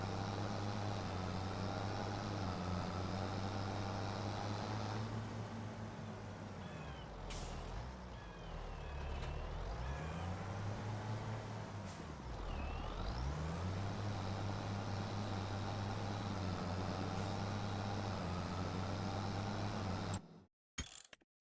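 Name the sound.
stump grinder machine in video game Farming Simulator 25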